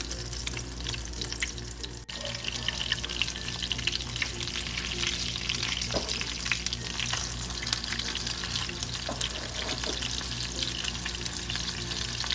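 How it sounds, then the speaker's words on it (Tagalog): A burger patty fries in a hot pan for the Jollibee-style burger steak, a loud continuous crackling sizzle close by, with no talking. "And wag nyo i-move around yung patty habang niluluto."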